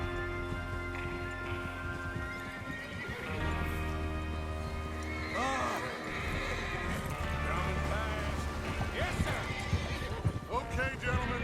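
Horses whinny and neigh repeatedly over clip-clopping hooves in the Red Dead Redemption 2 game world, close and lively, with voices talking underneath.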